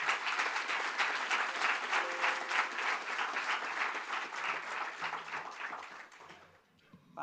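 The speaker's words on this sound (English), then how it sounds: "please, a big applause to Vice President Margrethe Vestager." Sustained applause from a conference audience welcoming Vice President Margrethe Vestager as she takes the stage, dense, steady clapping that fills the room before tapering off near the end.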